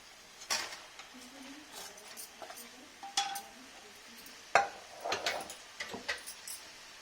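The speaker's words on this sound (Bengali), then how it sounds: "এখন আমি পনিরগুলো যে ভেজে রেখেছিলাম ওগুলো দিয়ে দিব।" Fried paneer cubes are tipped into dry-fried spinach in a pan and stirred, giving a run of irregular clinks and scrapes of utensil on metal, moderately close, with no talking.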